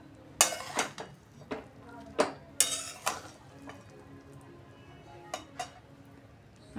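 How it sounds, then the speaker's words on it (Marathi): A spoon scraping and clinking against the bottom of a pot of paneer biryani, several sharp metallic knocks spaced irregularly over a quiet background, close up with no talk. "थोडंसं मी खालच्या साईडने असं थोडंसं मोकळं करून घेणार आहे"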